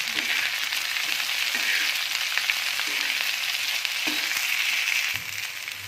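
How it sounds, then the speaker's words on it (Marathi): Okra sizzles steadily on a hot tava while being stirred, a constant close frying hiss broken by occasional scraping and stirring knocks, with no talk. "भेंडी टाकणार आहे। आता हे व्यवस्थित मिक्स करून घेणार आहोत।"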